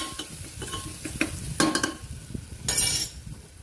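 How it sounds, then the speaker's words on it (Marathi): Onion, tomato and turmeric are stirred in a hot pan, with soft sizzling and a few sharp scrapes and clinks of the spoon against the metal, close and without talk. "आता मी याच्यामध्ये थोडी हळद टाकणार आहे. हे मिक्स करून घ्यायचं आहे."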